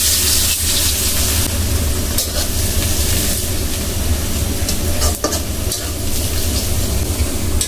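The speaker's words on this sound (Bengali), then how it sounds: "রসুন দিয়ে ফোড়ন দেব।" Garlic sizzles loudly in hot oil for tempering in an amra pickle, a dense close crackle with stirring scrapes and a brief dip midway, and no one speaking.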